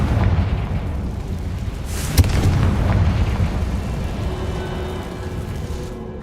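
Confringo fire spell exploding in Hogwarts Legacy, a sharp blast with a low booming rumble that rolls on and fades, amid continuous game ambience.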